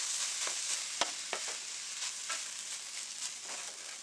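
Shrimp fried rice stir-fried in a hot pan after adding salt and chili flakes, with a steady close sizzle and a few sharp scraping clicks of the spatula against the pan.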